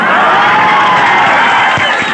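A large crowd of coaching-class students cheering and shouting together at close range, a dense continuous roar that holds steady throughout.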